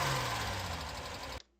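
A car engine idles steadily with a light tapping and ticking running through it, continuous and close, then cuts off abruptly near the end.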